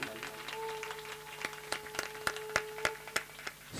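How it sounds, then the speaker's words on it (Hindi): Crowd clapping at a Shrimad Bhagwat Katha religious gathering, a quick cluster of distinct, fairly distant hand claps rising in rhythm over a steady background hum and faint tones. "एक बार जोरदार इनके लिए ताली।"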